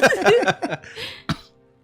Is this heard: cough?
yes